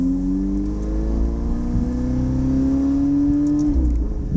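Gintani-tuned 2018 Ferrari 488 Spyder accelerating hard on a race track at Arizona Motorsport, a loud, close engine drone climbing steadily in pitch before a brief dip at a gear change.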